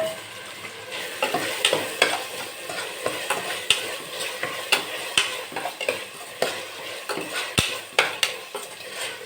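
Avarekalu, potato, beans and carrot fry in a pan for an Indian veg pulao, a soft continuous sizzle under repeated scraping and clinking of a ladle stirring the vegetables, with no talking.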